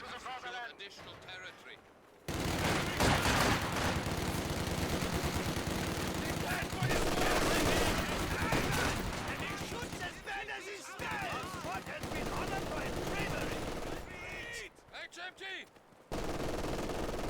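Heavy machine gun fire in a real-time strategy video game match, long bursts of rapid shots with battle noise, pausing briefly and resuming, mixed under commentary.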